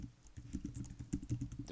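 Brief, quiet run of typing on a computer keyboard, a dozen or so soft close clicks in a fast, fairly even rhythm, with no voices.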